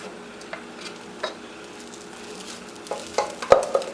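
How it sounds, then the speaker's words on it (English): Leftover rice frying over low heat is stirred in a pan, with soft sizzling throughout and a few sharper scrapes and clinks of the utensil near the end, close and moderately quiet. "mix this rice in a little bit"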